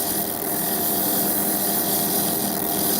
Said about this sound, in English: This is a very coarse sandpaper that I'm doing it on.